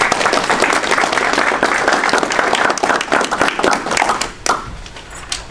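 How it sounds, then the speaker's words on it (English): Audience applause fills a hall at a Hinduism forum as two panelists are welcomed onto the stage: dense, steady clapping throughout, thinning and fading out in the last second. "Let us welcome them with applause."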